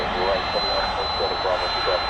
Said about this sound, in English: This is one of my favorite UPS flights because not only is it a Boeing 767